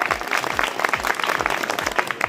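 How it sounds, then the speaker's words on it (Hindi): Crowd applause at a political rally in Rajasthan, brisk and close clapping from many hands with a choppy, uneven rhythm and some crowd noise underneath, loud throughout. "14 तालियों का स्वागत करें"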